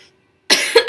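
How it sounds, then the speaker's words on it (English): A single sharp human cough bursts in after half a second of near silence, close and loud, with a brief second push of breath at the end. "I didn't mean to actually cough that time."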